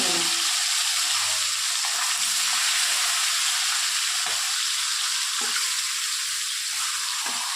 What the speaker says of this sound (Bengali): এবার দেখুন তেলটা গরম হয়ে গেছে এবার আমি মাছটাকে ভেজে নেব